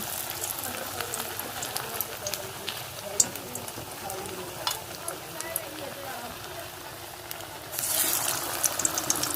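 Egg pakoras deep-frying over a low flame in hot oil in a wok make a steady bubbling crackle with small pops, which grows louder near the end, while someone talks over it.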